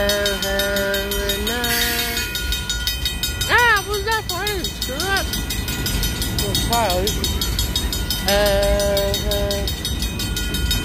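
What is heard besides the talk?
freight train passing on Portland Western Railroad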